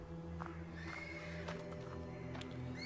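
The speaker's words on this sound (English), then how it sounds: "Do you hear that horse, guys? There's a horse in the background going wild in there." A horse whinnies in the background of the Black Book video game, with short repeated neighs over a quiet droning ambience, faint and somewhat distant, no one talking.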